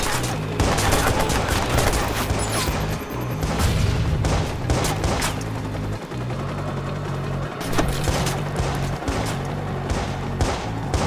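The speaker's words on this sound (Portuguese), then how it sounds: "Quem tá atirando em mim?" Dense volleys of gunfire aimed at the player in Watch Dogs, loud rapid bursts layered with booming impacts, continuous with brief dips.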